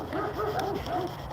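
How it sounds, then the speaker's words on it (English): Big dogs at a neighbor's yard barking and whining in a quick run of several yelps, moderately distant, with no talk over them. "They're big ass dogs that's barking."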